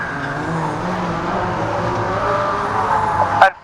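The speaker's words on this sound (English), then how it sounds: "And Finn Adams revving the hell out of that LDV convoy" Banger racing vans, including an LDV Convoy, on a race track: a continuous loud engine drone with revving and tyre noise throughout, ending in a brief sharp clatter.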